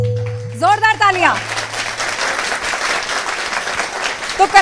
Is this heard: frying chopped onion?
no